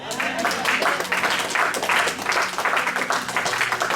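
A church congregation applauds and cheers steadily, a dense wash of clapping with voices mixed in throughout.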